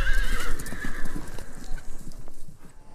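A horse whinnies with a loud, shrill neigh at the start, then its hooves clip-clop in a quick galloping rhythm that fades slightly over the few seconds.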